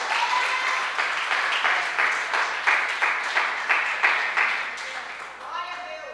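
Church congregation applauding during an evening service, loud continuous clapping with a pulsing rhythm that fades slightly near the end.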